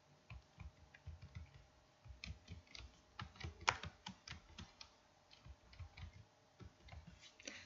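Quiet typing on a computer keyboard, irregular bursts of light key clicks with one sharper tap midway, close-up and with no talk.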